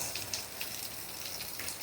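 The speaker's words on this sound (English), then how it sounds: "And it is raining cats and dogs." Heavy early-morning rain falling in Montego Bay, Jamaica, a steady, moderately quiet hiss of downpour with scattered splashes and drips.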